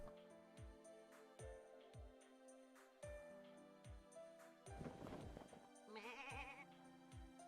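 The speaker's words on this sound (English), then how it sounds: "we didn't get a single sheep sound until now" Sheep bleating in a Christmas-themed video game, several wavering bleats near the end over soft, tonal game music with regular low plucked notes, all fairly quiet.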